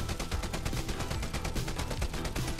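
Rapid video game gunfire as a whole magazine is emptied in a match: a dense, evenly spaced burst of sharp shots rattling continuously for the full stretch, close and loud.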